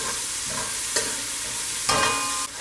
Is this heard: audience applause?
no